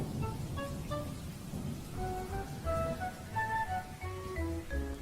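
Steady rain with low thunder rumbling throughout an approaching thunderstorm near a hillside house, while scattered tonal sounds like distant chimes or music float above the downpour.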